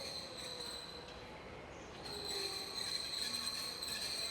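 A light rail tram running on its rails, heard as a faint steady rumble with thin high wheel squeal tones that grow slightly stronger partway through, with no talk.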